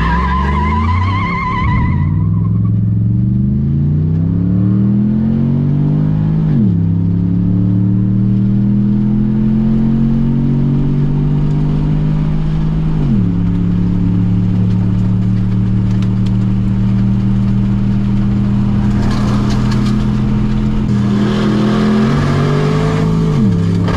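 Several cars launch one after another in a drag race, engines revving hard and climbing through rising gear pitches with shifts, loud and close, with brief tyre noise and no talk.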